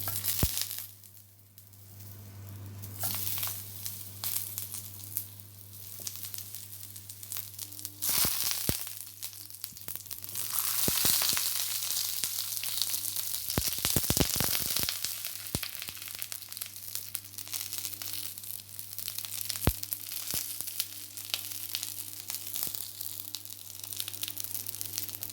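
Eggplant and minced pork frying in a pan give a steady sizzle over a constant low hum, with louder crackling bursts and scraping in the middle, no talk.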